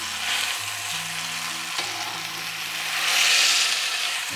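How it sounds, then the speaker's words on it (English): Beef searing in a Dutch oven, a steady loud sizzle and crackle of hot fat that swells toward the end, with faint low hum underneath and no talking. "we're gonna sear it really well. I do have a larger Dutch oven"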